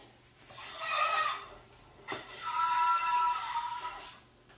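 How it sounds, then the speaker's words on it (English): Cleaning brush scrubbing a dirty Mosin rifle barrel: two long, rasping, squeaky strokes, back and forth, with a brief knock between them, close and moderately loud. "That is the sound of one dirty Mosin barrel"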